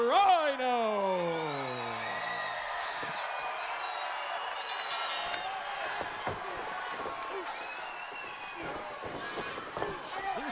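A wrestling arena crowd in the Impact Zone roars and cheers steadily for a 270-pound wrestler's entrance, with a rising siren-like whoop at the start, scattered thuds and claps, and an announcer talking over the din.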